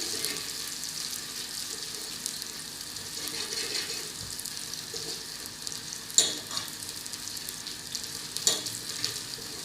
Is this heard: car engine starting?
no